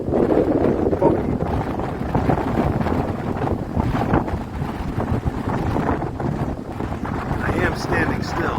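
Strong 30–40 mph wind gusts batter a handheld phone microphone on an Appalachian Trail hike, a loud continuous low rumble and buffeting that never lets up across the whole stretch.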